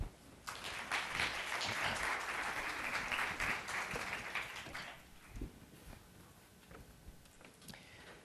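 An audience applauds to welcome a speaker at a medical lecture, a broad wash of clapping that holds steady for several seconds, then thins out and fades to scattered claps and room noise.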